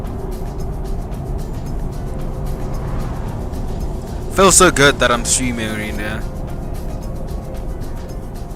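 A VW Polo GTI drives along steadily, its engine and road noise forming a continuous low drone while someone talks over it throughout.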